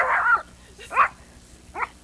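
A dog whimpers and gives short yips and barks in three separate bursts, close by, with no talking.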